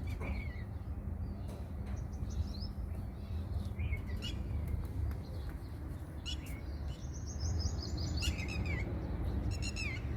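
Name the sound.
red-wattled lapwing calls on a rooftop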